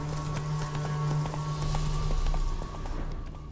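Roach the horse gallops in The Witcher 3, a steady drumming of hoofbeats that carries through the whole stretch over a low droning game score.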